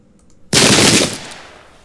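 Troops fire a volley of muskets in the Pike and Shot Campaigns game at the Battle of Prestonpans during the Jacobite Uprising: one sudden loud crackling burst that holds briefly, then fades into a lingering rumble.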